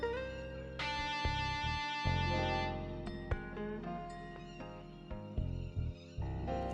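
Sampled electric lead guitar from the R&R chunk preset in Xenology, in a psychedelic style. Sustained, wailing, distorted notes bend and glide over a steady rhythmic backing, fairly quiet and without voices.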